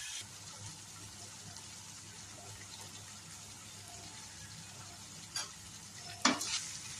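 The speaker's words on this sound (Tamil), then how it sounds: "இப்போ ஒரு 5 மினிட்ஸ் நல்லா வதக்கிக்கலாம்." Brinjal sautéing in a pan for a spicy Tamil kathirikai kara kuzhambu, giving a steady soft sizzle and frying hiss throughout, with a couple of louder stirring scrapes and clinks near the end.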